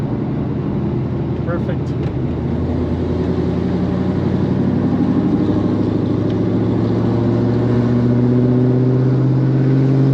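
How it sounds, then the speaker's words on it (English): A car passes on a road while another car, a GTO, drives slowly during a rear brake bedding test; a steady engine and tyre drone stays close and continuous throughout, with a brief spoken word. "We got a car coming up, so I got to slow down."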